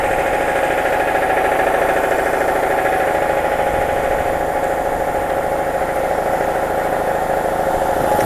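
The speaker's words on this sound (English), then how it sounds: "Compressor running." An air compressor runs steadily in a workshop, a loud continuous mechanical drone with a humming motor tone that holds without pause throughout.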